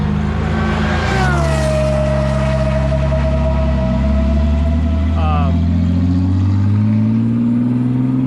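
A race car at the Pocono Raceway roll-racing event drives down the track, its engine holding a steady loud drone with a rising pitch sweep near the start, while people talk over it.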